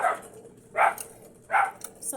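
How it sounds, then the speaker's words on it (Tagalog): Dogs bark in three sharp, evenly spaced bursts, fairly close, with quiet gaps between them. "Ingay ng mga aso namin."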